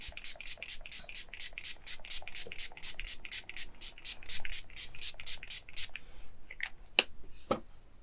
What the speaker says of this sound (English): bring it all together and use setting spray